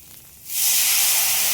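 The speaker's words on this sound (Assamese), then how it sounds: "আলুখিনি অলপ সময় ভাজিব লাগিব" Potatoes frying in a pan start with a sudden loud, steady hiss about halfway in, a broad sizzle that holds strong to the end with no voices.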